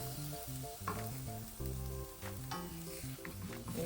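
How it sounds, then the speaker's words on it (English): Tortillas sizzle in a hot pan during home cooking without power in a hurricane, a steady, quiet frying hiss with occasional stirring, alone with no talk. "So I flipped them. This is the other side, so they're starting to look like fresh tortillas again."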